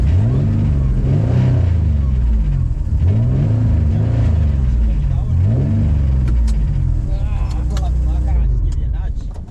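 A Mazda HB 929 burnout car's engine revs hard and close in repeated rising surges, then settles into a rough idle with clunks, while people talk over it.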